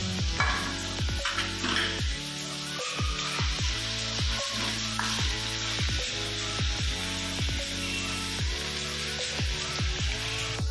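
Chicken fries in a pan with green and red chillies, a steady close sizzle running throughout at an even level, with a low mains hum beneath it.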